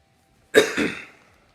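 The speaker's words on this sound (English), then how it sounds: "I almost died because I had to cough." A single close cough, a sharp burst followed by a second rougher push that trails off, with quiet before it.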